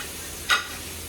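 A single quick scrape of a spoon stirring rice in a hot pan cuts through a faint background hiss, short and close.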